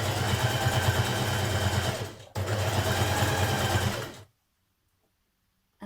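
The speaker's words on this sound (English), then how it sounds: "Now with your twin needle, you're going to stitch on the right side with your 3cm hem turned under." A sewing machine runs a twin needle along a 3cm turned-under hem of a Burda cardigan, whirring fast and steady in two close bursts separated by a brief stop, then falling silent.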